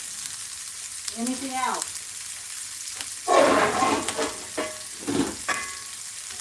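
Eggs, shredded beef and vegetables sizzle in a cast iron skillet, with loud bursts of frying and stirring scrapes close up, and brief talk early on.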